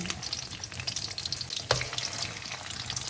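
Thai pork sausage slices frying in a pan with hot oil, producing a steady close sizzle and crackle throughout, with a brief sharper spatter burst midway and no talking.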